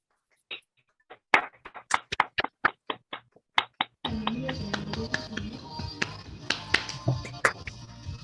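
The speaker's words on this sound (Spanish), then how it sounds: "Un aplauso." An audience at an astronomy lecture on developing a high-resolution instrument starts with a few scattered, separate claps, then breaks into full, sustained applause from many hands.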